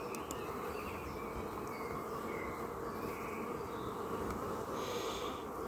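Guard honeybees buzz steadily around an open hive with brood frames, a continuous close droning hum that holds at a constant level throughout, with a few higher whines passing near.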